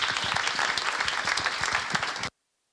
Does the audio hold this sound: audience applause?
yes